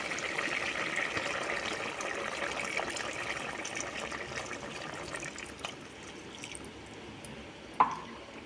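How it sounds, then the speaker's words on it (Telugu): Milk poured into a pot of cooked bottle gourd curry, a steady soft liquid splash and trickle running throughout, close and moderately loud, with one brief clink near the end and no talking. "ఇప్పుడు పాలు పోసేసుకోవచ్చు. ఆనపకాయ పాలు."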